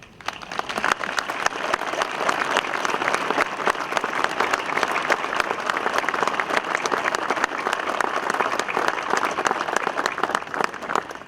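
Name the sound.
audience applause at Alpini rally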